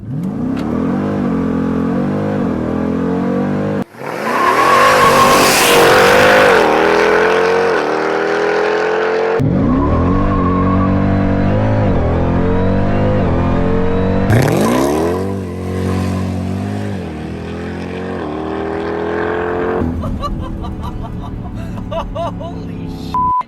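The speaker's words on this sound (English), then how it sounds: "I have never been in a vehicle that spins all 4 tires" A 900 HP Jeep Trackhawk launches at full throttle with all four tires spinning: a loud, close engine roar climbs through repeated rising revs with brief shifts between surges, and faint tire noise runs underneath.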